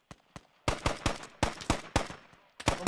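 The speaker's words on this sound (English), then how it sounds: "We're still taking shots." Rapid gunfire in the military shooter game Squad, with a few scattered shots and then a dense run of sharp, loud cracks in irregular bursts.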